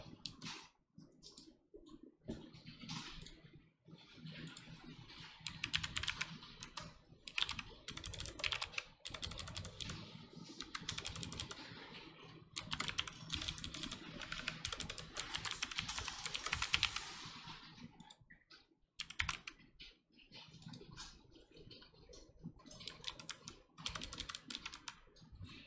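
Steady typing on a computer keyboard entering English text into a web form, with dense clattering keystrokes running nearly the whole time, close and fairly quiet, with brief pauses and no talking.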